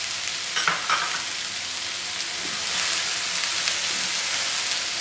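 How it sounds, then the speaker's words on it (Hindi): Mushroom and capsicum sautéing in a pan while being stirred, giving a steady soft sizzle and crackle with occasional scraping clatter, close and continuous with no voice. "हमें इसे हल्का सा सॉटे करना है, पूरी तरह से पकाना नहीं है।"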